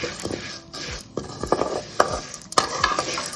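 Sesame seeds being roasted in a pan and stirred with a metal spoon, giving quick scraping strokes and light clinks in an irregular rhythm, close and fairly loud.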